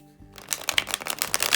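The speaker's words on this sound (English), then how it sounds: "Shuffle it one more time." A close, crisp riffle of tarot cards, a fast ripple of paper flicks that builds in loudness over a second or so.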